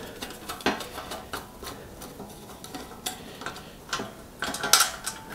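Small screws being loosened by hand on a Shimano 3-speed internal hub with coaster brake, giving scattered light metallic clicks and ticks, close and quiet, with brief sharper taps here and there and no voices.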